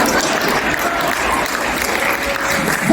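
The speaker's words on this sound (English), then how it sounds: "one person for bestowing applause towards me" Audience applause at a comedy show, dense steady clapping filling the room at an even level for a few seconds with no talk over it.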